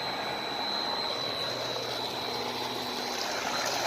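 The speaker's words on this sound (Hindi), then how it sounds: "मोटर चल रही है" A solar-powered tubewell motor pumps water in a steady, continuous rushing hum with an even whoosh and no breaks. It is fairly loud and close, with no talk over it.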